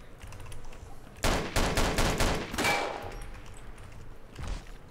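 A rapid string of gunshots from the video game DayZ rattles out in a tight volley, fairly distant, then fades into quieter background noise.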